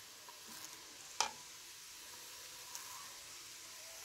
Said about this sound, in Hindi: पहले करी लीफ डाल देते हैं।